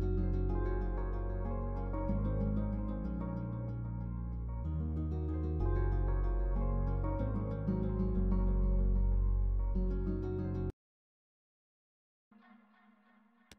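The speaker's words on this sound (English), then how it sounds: "once we combine it with the other sounds, it sounds like this" An Afrobeat beat in which a low synth is layered with other instruments, a dense full mix of bass and rhythmic parts playing continuously, then stopping abruptly before a brief quieter tone at the end; no voices.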